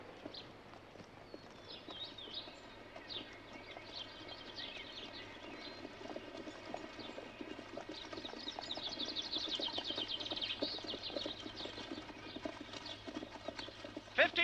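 Steady clip-clop of horse hooves at a walking pace, moderately close, with a faint hum and some creaking in the background.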